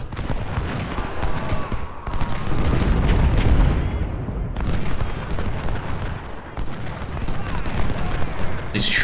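Battle noise from the Civil War strategy game Ultimate General: Civil War, with dense, continuous rumbling musket volleys and booming artillery blending into a heavy, sustained roar over about nine seconds, with a sharp crack near the end.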